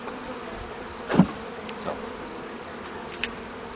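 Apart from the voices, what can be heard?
honey bees buzzing around hive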